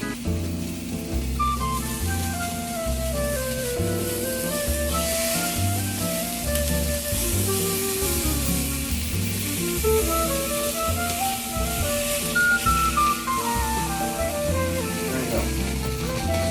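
Hot dogs sizzle steadily on a hot cooking surface as they are rolled over, a constant crackling hiss under background music.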